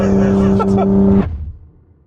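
A cheap Japanese car, bought for 1200 euros, drives loudly nearby. A steady engine hum with strong tonal drone sounds under a man's speech, then cuts off abruptly and fades to near silence.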